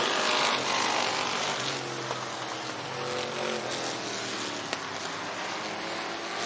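IMCA race cars circle Boone Speedway in Boone, Iowa, a steady, broad engine roar from several cars at middle distance that holds without a break.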